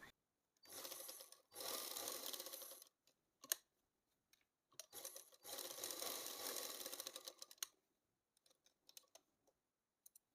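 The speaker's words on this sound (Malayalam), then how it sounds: "ഇതുപോലെ വെച്ചിട്ട് ഇങ്ങനെ സ്റ്റിച്ച് ചെയ്ത് കൊടുക്കാം." A sewing machine stitches fabric for a saree blouse in two sustained whirring runs, close and clear, separated and followed by quiet gaps with small mechanical clicks and handling noises.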